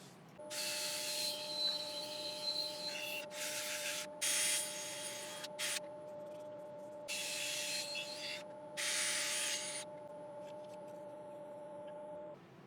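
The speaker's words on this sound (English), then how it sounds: "Now guys, ready for sanding." A turned yew wood piece being sanded produces five or six distinct bursts of rough rubbing, each lasting about a second, over a steady low machine hum.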